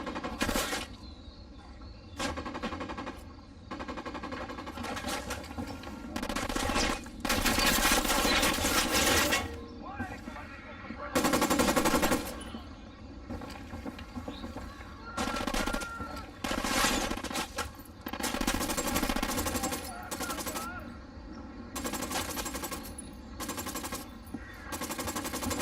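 Bursts of automatic gunfire in the video game Ghost Recon Wildlands rattle loud and dense, repeating through the stretch in long sustained volleys with short gaps, while voices call out over the shooting.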